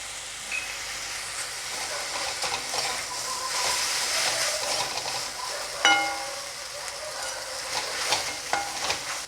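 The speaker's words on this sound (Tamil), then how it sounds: "இஞ்சி பூண்டு பேஸ்ட்டை ஆட் பண்ணி நல்லா வதக்கிட்டேன்" Ginger garlic paste sautéing with tomatoes in a hot pan for a side dish, a steady close sizzle with scattered stirring scrapes and clinks throughout, no voices.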